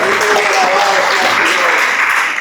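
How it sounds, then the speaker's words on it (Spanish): A church congregation applauds during a Spanish-language sermon, producing a dense, continuous wash of clapping that fills the room evenly from start to finish without pause. "Dale un fuerte aplauso al Señor."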